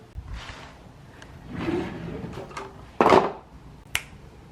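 A small bathroom drawer that holds cords and other odds and ends is worked by hand. It gives a sharp sliding burst followed about a second later by a short click, close by and fairly quiet against a hushed room.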